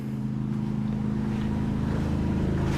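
A DeWalt DXCM601 air compressor, 3.7 horsepower, single stage with a 60-gallon tank, running as a steady, loud, low motor drone with no talking.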